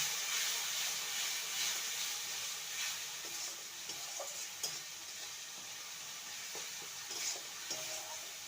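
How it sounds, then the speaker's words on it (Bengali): Chopped banana flower with Kashmiri chili powder sizzles steadily in a hot pan, broken by occasional scrapes and taps of a spoon stirring it close by. "আর দেব কাশ্মীরি লঙ্কার গুঁড়ো ওয়ান টিস্পুন সমস্ত কিছু ভালো মতন কষিয়ে নেব"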